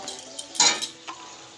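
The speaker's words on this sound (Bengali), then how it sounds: "সবজি দিয়ে বেশ খানিকক্ষণ কষাবো আর নাড়াচাড়া করব।" Broccoli and mixed vegetables being stirred in a pan, with a few short clinks and scrapes of a utensil against the metal, including one sharper knock in the middle, close up against a quiet background.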